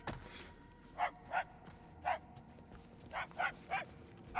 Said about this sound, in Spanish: Los aullidos se vuelven más fuertes.